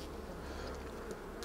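Honey bees buzz faintly around a beehive, a soft steady insect drone with a few brief closer wingbeat passes near the end.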